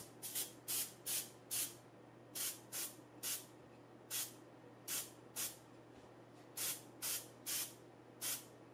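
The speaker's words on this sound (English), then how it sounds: "sprayed it with white paint. I used a Prevel sprayer" A Preval paint sprayer hisses white paint onto a fishing lure in a string of short, even bursts, about a dozen quick sprays one after another over a low steady hum.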